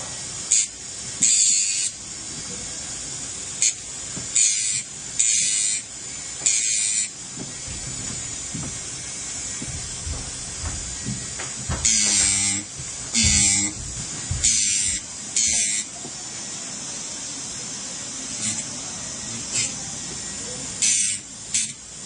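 A rotary polishing wheel touches up the shank of a set ring in short, repeated bursts of high, hissing buzz between pauses, fairly close, with faint room noise in the gaps.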